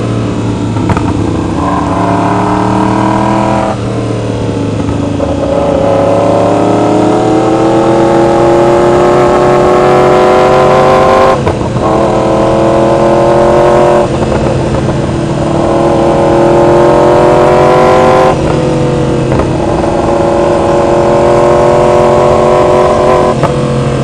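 Ducati Hypermotard 2015 motorcycle ridden through the Dahlonega mountains, its engine droning loud and steady with rising and falling revs through gear changes, close and continuous with no talk.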